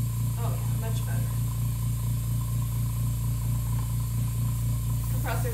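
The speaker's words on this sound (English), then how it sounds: "Compressor's loud, yeah." An airbrush compressor runs loudly while spraying paint on a garage kit figure, giving a steady close hum and hiss with faint clicks and handling noises on top.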